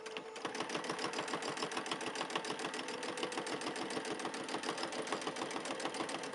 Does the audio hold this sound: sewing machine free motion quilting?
yes